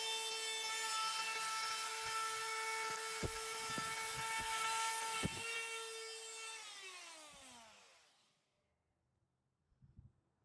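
A router rounds over the edges of a wood base, its high whining tone holding steady with sharp ticks as the bit cuts, then spinning down and fading to near silence before a few faint knocks.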